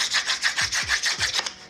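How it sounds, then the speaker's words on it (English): Sandpaper rubs by hand across a wooden Christmas coaster in quick, rhythmic back-and-forth strokes, about a dozen rasping passes close up, with a few low knocks mixed in. "sanding just enough to get rid of those pencil marks"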